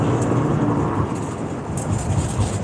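A car rolling along the road, a continuous low rumble of engine and tires with wind noise, steady and fairly loud with no talk.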